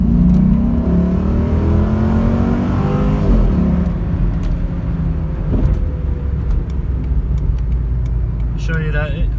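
A Jeep SRT8 accelerating hard on a straightaway, its engine building into a loud, steady roar with rising harmonics that swells for several seconds, then settles into sustained road and engine noise.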